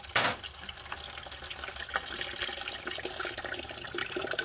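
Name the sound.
coolant streaming out of Suzuki SV650 motorcycle radiator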